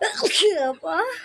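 A single loud sneeze bursts out close by during a sneezing challenge, followed immediately by a short spoken exclamation.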